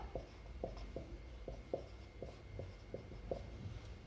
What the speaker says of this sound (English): So first write the formula.